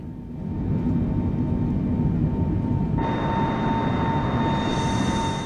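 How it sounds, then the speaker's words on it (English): Boeing airliner engine in Microsoft Flight Simulator, a steady loud rumbling drone that brightens partway through as a higher whine joins in, no talk. "Flying the biggest Boeing I could possibly fly."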